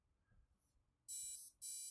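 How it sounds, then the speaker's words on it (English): Two loud, high-pitched electronic beeps from a drone's ESCs and motors, the first longer than the second, ring out after a near-silent stretch of faint background hum. "one of the beeping is the ESCs making the motors beep"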